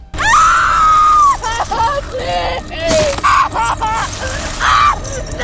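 An actress in a horror film scene screams after driving into a bear trap, with long, loud, shrill cries and groans recurring through the scene, close and intense.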